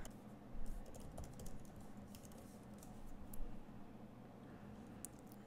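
Keys clatter in steady bursts of typing on a computer keyboard while logging into Instagram in a web browser, close and fairly quiet with no talking.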